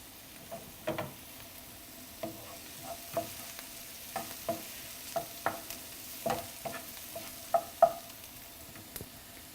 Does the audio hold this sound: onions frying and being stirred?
yes